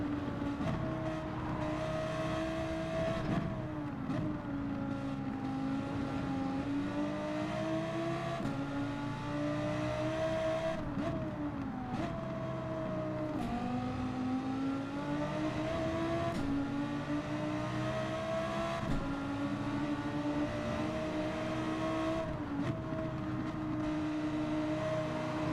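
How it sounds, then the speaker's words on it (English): A Dodge Viper race car engine in a racing video game roars loud and sustained, its pitch climbing and dropping through repeated gear shifts and revs, with no talk over it. "that Viper has got a lot of power"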